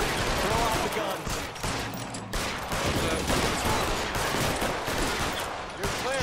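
Gunfire in the L.A. Noire video game, a dense stream of rapid shots and bursts over a noisy game soundscape, loud and continuous, with voices talking over the shooting.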